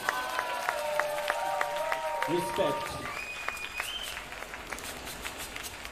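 A concert audience at a dub band's release party in a club applauds and cheers, steady dense clapping with shouts while someone speaks over the crowd through a microphone.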